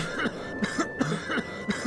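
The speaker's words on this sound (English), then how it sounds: "My guy's coughing." A character in the Garry's Mod video game coughs repeatedly, a rapid series of short harsh coughs heard up close.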